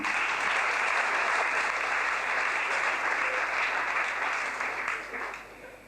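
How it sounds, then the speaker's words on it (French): Audience applause at a store inauguration in Mâcon for an absent prize winner: a steady, dense wash of many hands clapping, loud and sustained, then tapering off toward the end. "Vous pouvez l'applaudir quand même"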